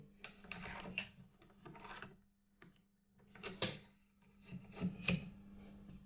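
A cleaning rod is pushed and pulled through the barrel of a Gamo Swarm Magnum Pro 10x Gen 3i air rifle, making quiet, close scraping and rubbing strokes with a few soft knocks, faint and irregular.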